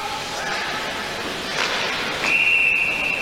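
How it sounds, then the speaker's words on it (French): Referee's whistle blown for offside during a 1985 European Cup ice hockey match between Dukla Jihlava and CSKA Moscow, a sharp sustained shrill tone cutting over arena crowd noise and commentary. "mais l'arbitre avait sifflé hors jeu"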